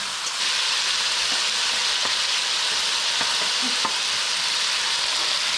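Eggplant and shrimp frying in a hot pan give a steady, close, bright sizzle that runs unbroken through the whole stretch, with faint crackles and no voices.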